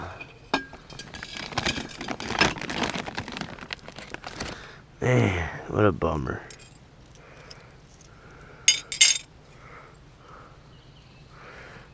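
Shards of a broken glass canning jar clink and scrape in a few bright, brief bursts outdoors, close by, amid louder rustling and a man's speech.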